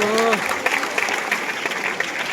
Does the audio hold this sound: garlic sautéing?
no